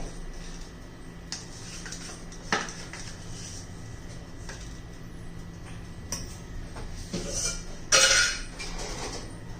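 A bowl clinks against a mixing pot several times while curd is added to semolina cake batter, with light scraping and a brighter knock near the end, close and fairly quiet with no talk.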